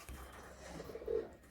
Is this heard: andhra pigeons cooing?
yes